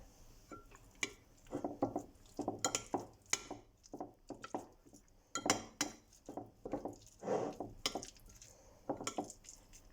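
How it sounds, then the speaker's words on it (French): Black olives and a drizzle of olive oil being mixed together in a dish, giving repeated clinks and scrapes of a utensil against the dish in a steady rhythm, close and fairly quiet, with no talking. "Je vais mélanger."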